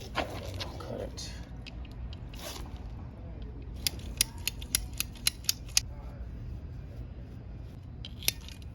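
A sprinkler pipe being cut, with a series of sharp snapping clicks near the middle, close and distinct against a low background rumble, after some handling noise early on.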